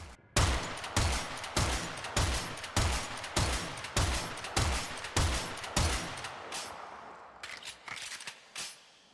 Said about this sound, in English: this weapon is extremely satisfying to use sound-wise because of the shot reloading